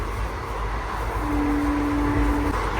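A passenger train pulls into a station near Khagraghat on the way to Berhampore, with a steady loud rumble of rolling wagons and a sustained horn-like tone midway through. No one speaks.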